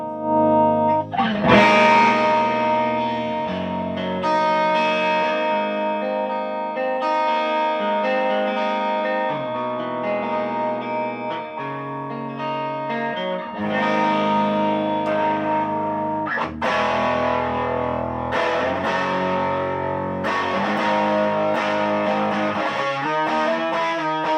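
A loud, heavily distorted electric guitar plays chords and riffs through a cranked 1973 Fender Bassman 100 amplifier, thick and saturated with effects, continuous for the whole stretch without talk.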